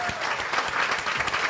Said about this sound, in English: Can we give Ms. Sheryl Lee Ralph a round of applause?